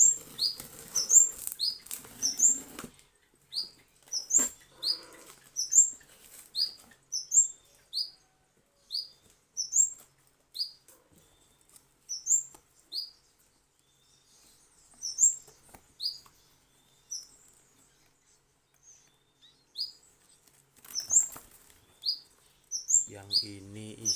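Cigun birds flutter inside a box, wings flapping in short bursts mixed with repeated high chirps that come in a steady, close series across the whole stretch.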